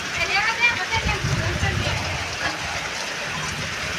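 Sudden outdoor rain pours in a steady broadband hiss with scattered drop patter, moderately close and continuous for the whole stretch, with faint low rumbles underneath and no voices.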